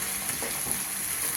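Pork and plantain roast sizzles steadily in a pan with curry leaves and crushed chili while it is stirred, a continuous close frying hiss with faint scraping and no talk.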